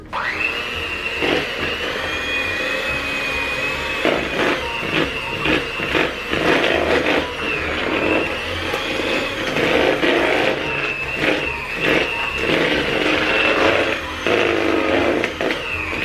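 An electric mixer whirs continuously through cinnamon butterscotch cookie dough after wet ingredients are combined with dry, a close, steady motor drone with a high whine, interrupted by brief clunks and bumps against the bowl.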